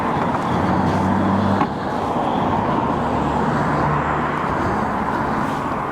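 Can-Am Ryker 900 three-wheel motorcycles riding along a road, a steady broad engine and wind roar with a brief louder stretch early on, no voices.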